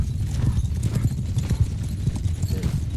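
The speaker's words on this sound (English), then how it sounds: "my horse is at a full-on sprint right now" Hooves of a horse at full sprint in the Mount & Blade Shokuho video game pound in a fast, continuous galloping rhythm, loud and close, with no talk over them.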